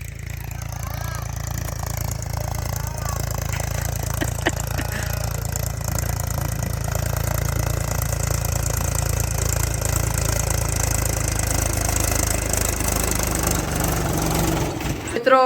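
A tractor engine idles steadily nearby, a low, continuous rumble with faint knocking, while people talk in the background.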